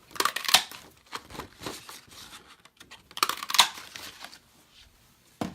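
Scissors snip paper daisies close up in quick bursts of crisp cuts, with a pause between two clusters and a faint rustle of paper; no talking.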